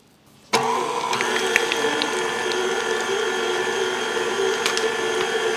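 An electric mixer beats keto red velvet cake batter with heavy whipping cream, switching on abruptly after a brief quiet moment and then running as a steady, close, loud whir with a faint rattle.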